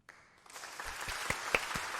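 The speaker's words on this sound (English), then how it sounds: "Oh, we're clapping. Everybody clap." A crowd claps steadily, the applause swelling after a quiet start and continuing as a dense patter of many hands, at a StarCraft Protoss versus Terran match.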